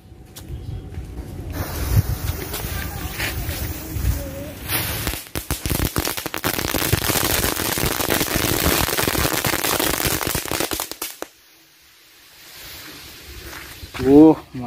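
Kretek firecrackers are lit and burst in a long crackling string of rapid pops lasting several seconds, followed by quieter sputtering and a short hiss, with voices talking around it.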